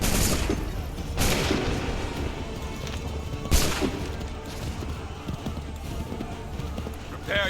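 Soldiers firing a musket volley in Assassin's Creed 3: several sharp, loud bursts of gunfire spaced seconds apart, ringing over a busy battlefield mix with shouted orders around them.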